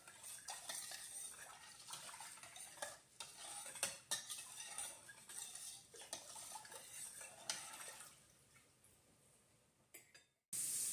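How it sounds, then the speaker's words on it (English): A whisk or spoon stirs pickle brine with dissolving sugar in a pot, giving quiet scraping swirls and scattered metallic clinks that fade near the end before a short, abrupt burst of noise. "just take your whisk or your spoon and stir it up real good"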